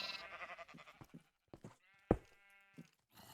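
Sheep bleat in Minecraft, a few separate wavering calls with quiet gaps between them, close and clear, including a sharp tonal bleat near the middle.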